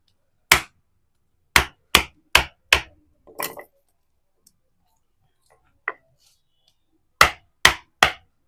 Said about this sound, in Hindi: चारों तरफ से ठोक लेंगे इसको